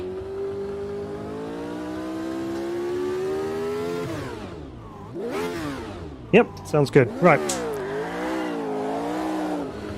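Race car engine in the Automobilista 2 racing game, a DFY Formula Retro Gen 3, revving and dropping off, then a quick run of sharp pops and bangs on overrun, with someone talking briefly over the engine drone.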